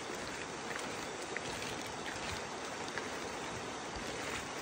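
Stream flowing beside a dry cornfield in Cao Bang, Vietnam, a faint, steady broadband rush of water with no talk.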